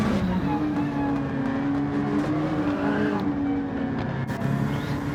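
A race car engine in a racing game roars loudly and continuously close up, its pitch climbing steadily as it accelerates toward the finish.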